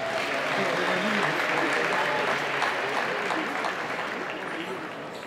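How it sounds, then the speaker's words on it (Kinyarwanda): A crowd at a Rwandan Inyamibwa cultural troupe gathering bursts into dense, sustained applause, steady clapping from many hands that fades slightly toward the end. "dushimire aba bantu bacu tubakomera amashyi cyane"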